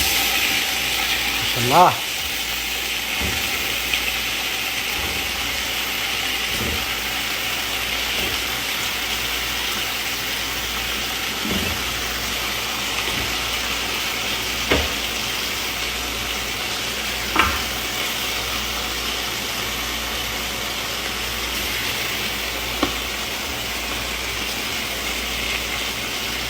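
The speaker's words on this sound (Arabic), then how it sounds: "الحين ننزل اللحم بعد ما غسلناه" Washed lamb or beef meat with liver, heart and kidneys frying and sizzling in a pot of spiced oil for kabsa, a steady hiss with scattered clinks of a stirring spoon; a voice speaks briefly once.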